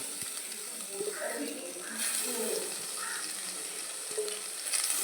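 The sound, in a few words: small sardines frying in a pan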